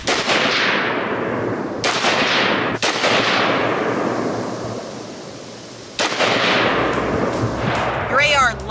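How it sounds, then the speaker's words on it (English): AR-15 rifle shots at an outdoor shooting range: a handful of loud, close reports spaced a second or more apart, each trailing into a long, broad echo across the range, with no speech over the shots. "So let's head on back out to the range, take a few more shots."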